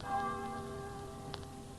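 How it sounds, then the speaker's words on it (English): A village church bell tolls for a funeral, its sustained ringing tones fading slowly and sounding faint and distant, with a soft tap partway through. "The church bell is tolling for the funeral of Sister George"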